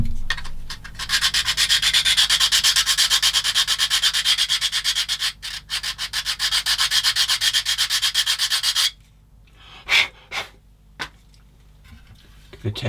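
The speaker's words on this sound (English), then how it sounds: "might give that a quick shave with the old sander" A sander shaves a part for a 1/16 scale model tank in rapid rasping strokes that run for about eight seconds with a brief pause, then stop, leaving a few faint handling knocks.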